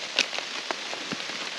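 Rain falls steadily outdoors as a constant hiss, with a few scattered, sharper drop taps standing out now and then.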